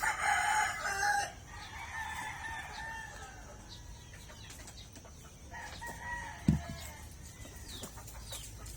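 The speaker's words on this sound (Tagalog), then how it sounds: "Nandito tayo sa ating alagang manok." Pet chickens at home: a rooster crows loudly and close at the start, then scattered clucks and calls from the flock continue over quiet background.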